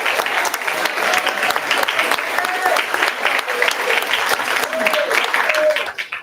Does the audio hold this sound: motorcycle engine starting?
no